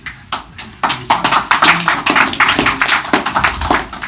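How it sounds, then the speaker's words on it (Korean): At a press conference, a small audience claps, uneven close handclaps starting after a short pause and continuing in a loose, moderately loud patter. "위로에 박수 한번 쳐주세요"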